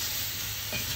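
Chicken pieces and pickles fry over medium heat in a kazan, giving a steady, close sizzle with faint stirring.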